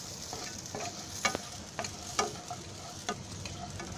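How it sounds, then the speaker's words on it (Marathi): Onion dry-roasted in a pan without oil is stirred steadily with a spoon, giving soft scraping strokes and sharp ticks over a faint sizzle, heard close up and alone. "म्हणून हे कांदा भाजेपर्यंत हलवतच राहायचं आहे."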